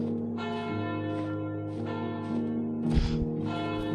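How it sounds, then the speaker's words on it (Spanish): Church bells ringing after a ceremony in Skyrim, several sustained tolls with long ringing overtones struck at a slow, steady rhythm, with a brief low thump partway through. "Qué bonito escuchar las campanas."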